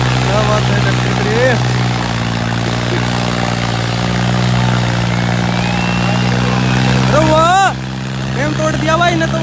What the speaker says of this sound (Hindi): देखो ट्रैक्टर का भाई बहुत बढ़िया परफॉर्मेंस करने ला रहा है ट्रैक्टर